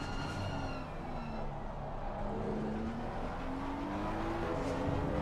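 Race cars including a BMW lapping the Spa circuit during a 24-hour endurance race, engines droning steadily with rising and falling pitch as cars accelerate and pass, a continuous moderate roar.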